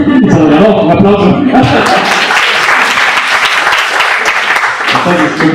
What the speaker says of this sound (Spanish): Se lo ganó, un aplauso.